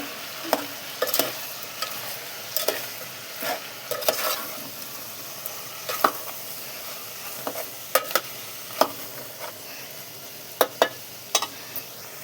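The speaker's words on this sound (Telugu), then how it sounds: "కొద్దిగా ఉప్పు కూడా వేస్తున్నాను. తిప్పుకుందామండి." Food seasoned with chilli powder and salt is stirred in a frying pan, a faint sizzle underneath repeated sharp spatula scrapes and taps in an uneven rhythm, close and without talk.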